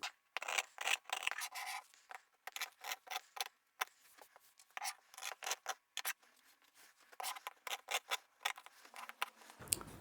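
Scissors snip through fabric in quick irregular bursts of crisp cuts, close and fairly quiet, with short pauses between runs of snips.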